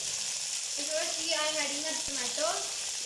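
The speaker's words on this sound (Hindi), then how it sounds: "मैं इसके जो साबुत मसाला है कड़ा वो डालने लगा हूँ" Whole spices sizzle in hot oil in a pot with peas for pulao, a steady close crackling hiss, with a voice talking over it.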